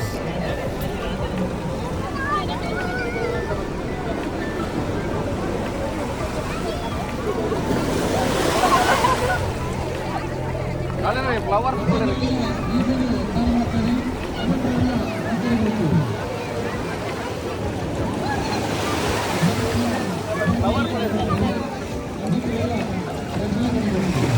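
Sea waves wash onto a beach during group sea bathing, with swells surging and receding in slow cycles about ten seconds apart. Wind noise and distant crowd chatter run steadily underneath.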